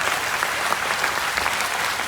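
A crowd applauds loudly and steadily, a dense, continuous wash of clapping hands close up from start to finish with no talking.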